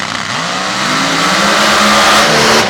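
A supercharged Hemi drag racing car launches off the line in an Ultra Quick open class race, its engine roaring loud and steady with a rising pitch that sweeps upward for nearly three seconds.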